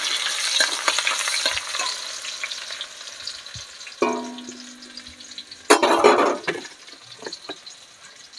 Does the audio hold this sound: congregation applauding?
no